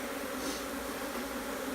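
Honeybees buzzing during a swarm transfer from a swarm trap, a dense continuous hum, close and steady, with no voices.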